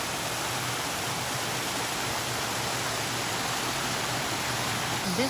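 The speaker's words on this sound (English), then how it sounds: "this waterfall" Waterfall on the Debden Burn at Cragside in Northumberland, near the Archimedes screw used for hydropower, giving a steady, even broadband rush of falling water with no break, moderately loud and unaccompanied.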